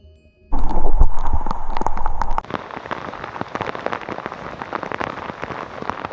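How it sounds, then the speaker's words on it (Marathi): Heavy monsoon rain drums down on a trek in the Sahyadri hills, a loud dense patter with sharp close drop impacts, preceded by a burst of louder rumbling noise. "भयानक पाऊस पडतोय."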